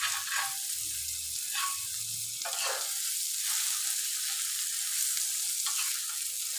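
Roti cooks on a hot tawa griddle in a home kitchen, a steady soft sizzle and crackle close by with occasional faint clinks, no voices.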